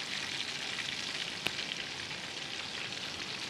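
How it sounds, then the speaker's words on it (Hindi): Chicken stuffing for Cajun stuffed polo chicken fries in a pan with a steady, even sizzle, joined by one brief sharp crackle midway. "जैसे ही ये फ्राई होने लगे और इसकी खुशबू आए"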